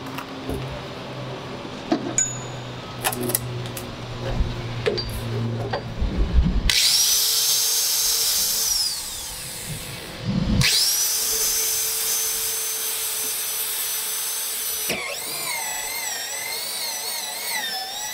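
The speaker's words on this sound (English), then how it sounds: "Now I'm just going to drill the holes and insert the fittings for the barrel." A power drill bores holes into a plastic rain barrel at a gardening workshop, with loud sustained high-pitched whirring bursts that start and stop several times after some quieter handling knocks.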